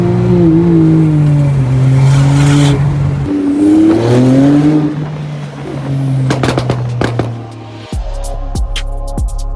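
A Porsche GT3 engine revs and accelerates loudly up close, rising in pitch through several pulls, with a few sharp cracks near the end before the note settles into a steady drone.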